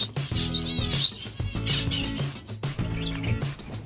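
Finches in an aviary chirp and twitter busily, many small calls overlapping near and far, with some being loud and close, over continuous chatter from the flock.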